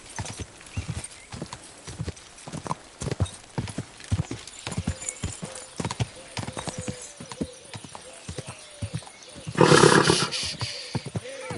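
Horse hooves clip-clop in a steady rhythm across Kingdom Come Deliverance II, the footfalls close and distinct, with a louder burst of noise near the end and a voice speaking briefly over the ride.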